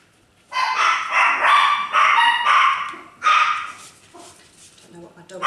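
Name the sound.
dogs barking at night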